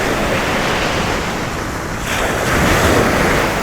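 Surf breaking along an ocean shore, a continuous loud wash of waves with wind buffeting the microphone, swelling slightly toward the end.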